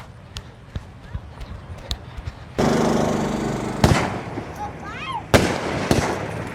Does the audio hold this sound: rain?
no